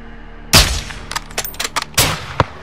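Gunfire in the video game Call of Duty: Modern Warfare 2: two heavy, loud shots about a second and a half apart, with a quick run of sharper cracks between them and a faint last report, no talk.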